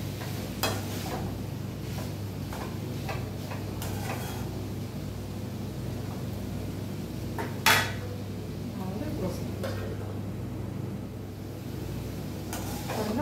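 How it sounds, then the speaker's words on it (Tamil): Onions frying in a pan with salt are stirred, the spoon scraping and clinking against the metal in an irregular rhythm over a steady low sizzle, with one sharper knock midway; close and moderately loud, no talking. "ஒரு தடவை நல்லா மிக்ஸ் பண்ணி வச்சுட்டு"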